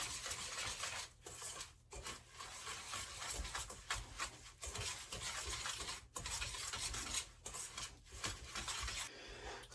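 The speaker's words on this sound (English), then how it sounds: "I'm just going to whisk this all together. I'm just going to incorporate all this sugar" Sugar is whisked into cake batter for an Italian rum cake, a steady close scraping and swishing against the bowl that runs continuously with brief pauses and no talk.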